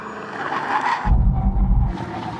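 A Ford Mustang V8 sliding under hard braking on a mossy surface, heard as a close, heavy rumble of tyre and engine noise lasting about a second amid general car noise.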